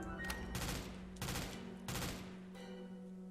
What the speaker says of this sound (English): Suddenly a gunfire lights up our surroundings.